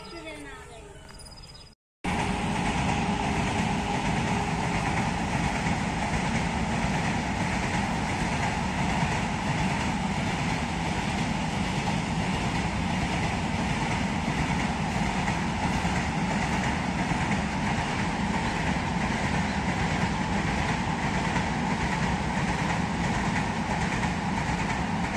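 A train passes close by, its loud steady rumble and clatter filling the scene after a brief quiet moment at the start and holding unbroken to the end.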